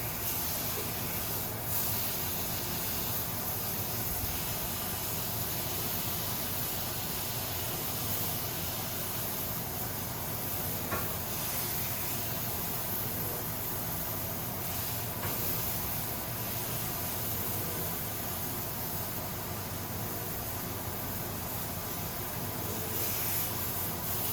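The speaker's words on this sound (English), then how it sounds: "So we've got about a minute or two of searing." Meat sears in a hot pan with a steady, dense sizzling hiss that continues evenly for the whole span at moderate volume, with no talking.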